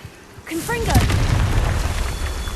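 A blasting spell in Hogwarts Legacy ignites with a rising whoosh, then erupts into a loud, rolling boom that keeps rumbling to the end.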